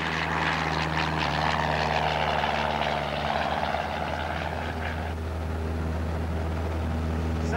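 Small aircraft in flight over Ipswich, heard from inside: a constant low propeller and engine drone, steady and moderately loud, with a faint voice early on.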